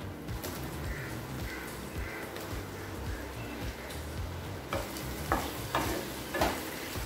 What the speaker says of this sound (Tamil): கேப்சிகம் சேர்த்துட்டு நல்லா வதக்கிக்கலாங்க.